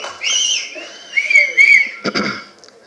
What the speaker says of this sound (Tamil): கை தட்டி விசில் அடித்து கொண்டாடுறீங்க